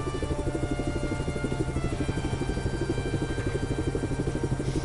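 A video game helicopter flies toward a gas station, its rotor thudding in a fast, steady rhythm under a droning engine whine, loud and continuous throughout with no talk.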